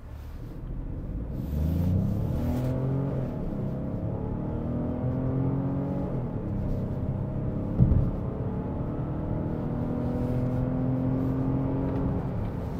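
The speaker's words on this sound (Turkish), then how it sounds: "Spor moddayım. 0-100 yapacağım." A car in sport mode runs a 0–100 km/h acceleration test, its engine note climbing steadily and dropping back at each gear change, heard from inside the cabin at moderate level.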